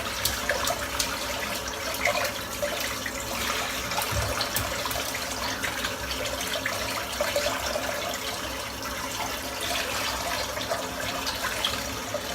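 Tap water runs steadily in a bathroom sink while soap is rinsed from a Wolf Whiskers shaving brush after lathering Barrister and Mann Adagio, a continuous broadband splash and trickle without speech.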